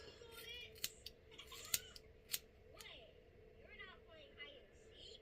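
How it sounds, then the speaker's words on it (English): Scissors snip across a section of long hair during a DIY butterfly layered cut, producing several quiet, uneven crisp snips close by, with faint speech-like sounds in the background. "I'm just gonna cut straight across."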